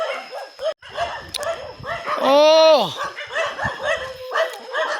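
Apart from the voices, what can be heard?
dog barking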